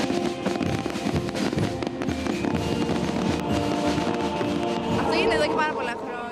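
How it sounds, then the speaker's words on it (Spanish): Fireworks at a nighttime Easter celebration in the Ionian Islands of Greece, a dense run of crackling bursts and pops mixed with crowd noise and people talking throughout, with whistling rockets rising near the end. "Los fuegos artificiales."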